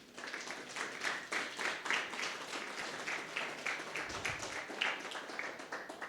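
Church congregation applauding during a sermon, a dense patter of many hands clapping continuously at moderate level, with a loose pulsing rhythm throughout.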